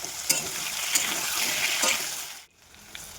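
Potatoes with slit green chillies fry over a bay leaf and cumin tempering in a pan, giving a steady close sizzle with stirring scrapes before a brief near-silent drop near the end.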